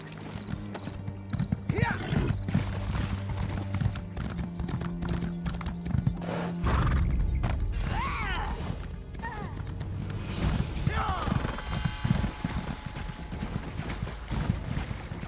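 Hooves clip-clop steadily as a horse is ridden in Elder Scrolls Online, with a short whinny partway through, all under a layer of game music and ambient sound.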